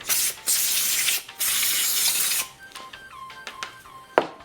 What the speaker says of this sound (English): we can just give it a good little spray down